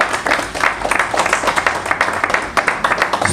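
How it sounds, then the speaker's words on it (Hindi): Listeners at a one-day leadership development programme clap loudly for a guest. The hand claps come as close, sharp, fairly regular beats over a few seconds. "तो एक बार जोरदार तालियां आगे बीपी यादव साहब के लिए।"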